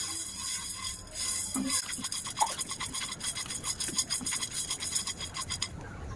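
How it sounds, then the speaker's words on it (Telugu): Dry lentils and spices, chana dal, urad dal, cumin and fenugreek seeds, being dry fried and stirred in a pan while making buttermilk chilli karam, giving a steady close scraping, rustling sizzle with no talk. "వీటిని లైట్గా ఫ్రై చేసుకుందాం."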